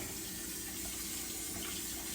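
Tap water running steadily into a pot of homegrown potatoes being filled for canning, a constant close hiss of flowing water with no speech.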